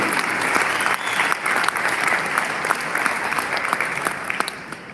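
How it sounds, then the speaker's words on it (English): Audience applause for veterans and their families at a Veterans Day event at Mohegan Sun: dense, steady clapping from a large crowd that carries on throughout, with a few sharper claps standing out near the front. "I want to give a round of applause to all the family members, all the veterans"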